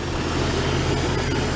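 A Jeep Cherokee engine idles steadily after a fan clutch repair, a continuous even low hum close by with no voices.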